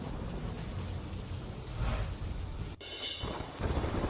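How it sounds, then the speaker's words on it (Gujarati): A heavy rain downpour in Jamnagar makes a steady, dense hiss with a low rumble underneath. It cuts off abruptly near the end, then resumes. "જામનગરમાં ખાબક્યો વિરત વરસાદ."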